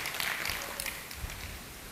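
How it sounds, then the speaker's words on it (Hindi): Loud applause from an audience at a study camp session in Nikora, Gujarat, a dense steady wash of clapping filling the whole moment. "जोरदार ताली।"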